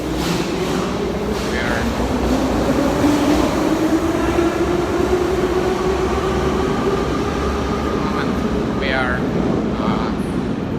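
Steady low rumble of a subway train running through a metro station in Novosibirsk, with faint squeals and a voice talking over it.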